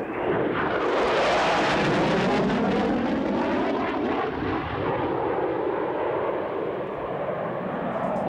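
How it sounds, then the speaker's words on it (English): A General Dynamics F-16 fighter jet makes a high-speed flyby at an air show, a loud roaring jet rush building and sweeping past with a falling tone, then fading into a steady distant rumble. "As he passes show center, he will be traveling over 600 miles per hour."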